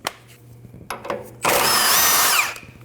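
A power tool spins off a 24mm nut on a Nissan NV2500 steering linkage, a few short clicks and bursts before one loud sustained whirring run of about a second, then it stops.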